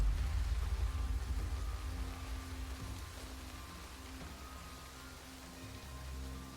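Steady rain falls as a continuous broadband hiss over a low rumble, loudest at the start and easing slightly, with no voices.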